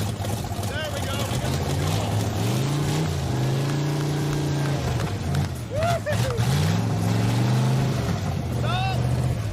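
A 1966 Buick Special engine runs continuously with a rough, rumbling drone that rises and falls as it is revved, close and loud, with people talking over it.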